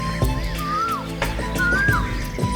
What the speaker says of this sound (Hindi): कोयल